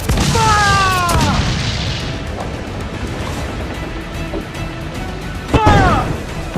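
Ship cannons in Assassin's Creed IV: Black Flag fire as heavy booming blasts, one near the start and another near the end, with crew voices shouting over the battle noise.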